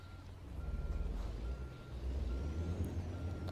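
A reversing truck in American Truck Simulator on the Arizona Grand Canyon route sounds a steady, evenly spaced backup beep over a low rumbling engine idle.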